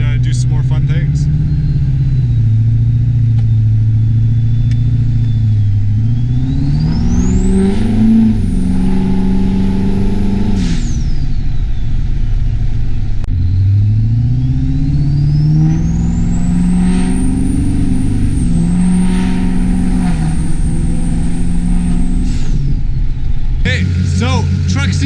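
A truck engine runs loud and close as it drives, rising and falling in pitch through gear changes, with a whining drivetrain tone climbing under acceleration and constant rumbling road noise.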